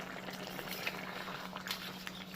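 Egg mushroom curry simmering in a pan, a soft continuous bubbling with faint popping and a steady low hum underneath, close and quiet.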